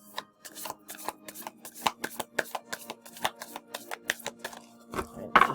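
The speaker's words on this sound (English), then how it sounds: "Right, just shuffling." Moonology oracle cards being shuffled by hand in a quiet room, a steady run of crisp, papery riffling snaps at close range, one card flick after another with no voice over them.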